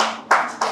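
Applause from an audience at a journalism awards ceremony in Pakistan, arriving in two quick bursts of clapping, close and fairly loud, with no talk over it.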